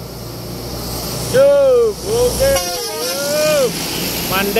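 A Halmahera intercity bus from Medan passes on the road, its horn sounding a long wavering musical toot over steady traffic rumble, with a second horn phrase following and voices talking nearby.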